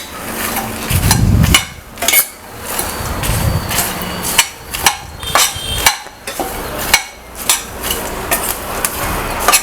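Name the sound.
mixing puffed rice and roasted lotus seeds in a pan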